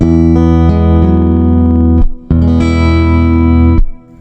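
A Fender Acoustasonic Standard guitar played through an Ampero modeller set to a dreadnought-style acoustic tone rings out in strummed and picked chords, bright and punchy in the mids, with a brief gap between two sustained phrases.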